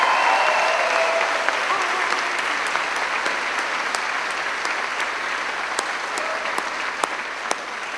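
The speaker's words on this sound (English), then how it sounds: "flowing applause" An awards-ceremony audience gives sustained applause, a dense wash of clapping that stays loud and steady throughout, with a few sharper individual claps standing out near the end.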